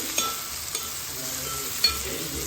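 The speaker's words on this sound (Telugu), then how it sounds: "చింత చిగురు వేసుకొని ఒకసారి అయితే కలుపుకోవాలి" Tender tamarind leaves stir in a pan with turmeric: a constant sizzle underneath, broken by a few soft scraping taps from the stirring.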